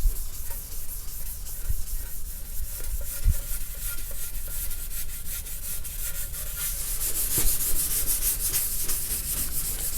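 Steady hand scuffing of an auto body panel on a Chevy Tahoe roll pan before priming, a continuous gritty rubbing that swells slightly toward the end, close and alone.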